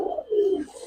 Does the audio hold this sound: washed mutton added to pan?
no